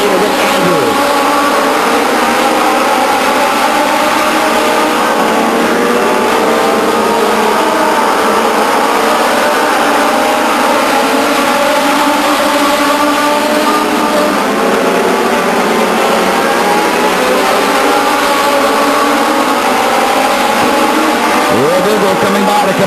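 Legends race cars roar around the Stockton 99 Speedway oval in 1999, a continuous loud engine drone rising and falling as cars sweep past close by, with Doppler swoops at the start and end.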